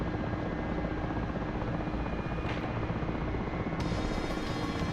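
An Mi-8 helicopter in the flight simulator DCS drones steadily and closely with a constant rotor and turbine roar and no talk over it.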